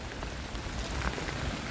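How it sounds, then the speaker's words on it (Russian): Heavy rain mixed with small hail pours down steadily as a dense, even hiss of countless drops, heard from shelter under a bridge, with no voices. "И дождь сильный полил."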